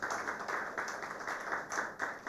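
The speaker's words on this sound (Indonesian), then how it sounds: "Mari berikan tepuk tangan bagi Tuhan Yesus" A church congregation at a New Year's Eve service claps in a fairly quiet, distant burst of applause, with rhythmic hand claps running steadily throughout.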